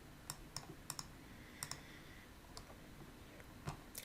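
A computer mouse clicking at a desk: a scattering of small, crisp, faint clicks, some in quick pairs, spaced irregularly over a quiet background hiss.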